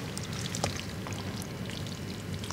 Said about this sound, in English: So we'll add in the pasta.